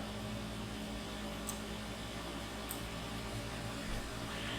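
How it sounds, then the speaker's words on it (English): A faint, steady hum of an air conditioning unit, a low constant drone with broadband hiss and no voices. "The rest is background noise and my AC unit"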